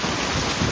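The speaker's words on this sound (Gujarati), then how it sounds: "જોરદાર પવન છે અટાણે" Strong wind in a village cattle yard roars and buffets the microphone in a loud, unbroken rush that lasts the whole short moment, with no speech.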